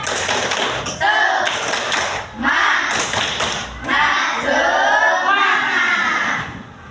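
A school class doing the 'tepuk semangat' clapping chant: loud, near bursts of rhythmic clapping and thumping alternate with children's voices chanting and shouting in unison.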